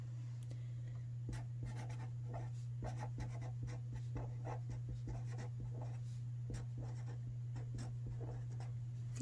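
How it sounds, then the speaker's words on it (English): Pencil or pen scratching across paper in quick, irregular strokes, close but quiet over a steady low electrical hum, with no one speaking. "So that's what I'm going to write."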